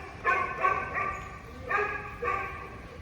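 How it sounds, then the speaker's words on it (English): A loud dog barks in two bursts of a few sharp, harmonic barks each, close to the microphone, with brief quiet gaps between them. "such a loud dog"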